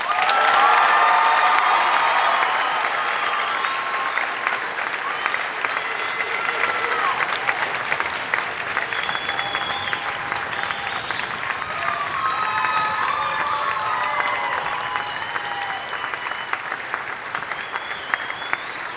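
Loud, sustained crowd applause at a police academy graduation ceremony for the training center's Class 170, with scattered cheers and whoops mixed into the continuous clapping throughout.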